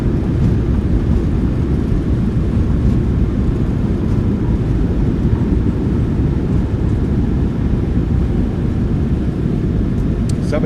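Thrust reversers on a Ryanair Boeing 737-800 roar during landing rollout, a loud, steady low rumble heard from inside the cockpit with no talk over it.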